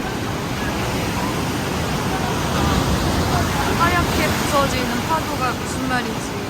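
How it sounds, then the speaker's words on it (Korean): Strong sea waves crash against the rocky shore at Yeonggeumjeong in Sokcho, a continuous loud surf roar with surges swelling midway, while people talk over it. "여기 파도 진짜 세서 바닷물이 여기까지 튀어."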